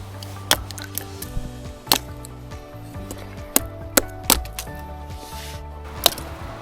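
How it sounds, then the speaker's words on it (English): A Morakniv Risberg knife chopping small branches outdoors, giving about eight sharp woody knocks at irregular intervals over steady low background hum. "Chopping test."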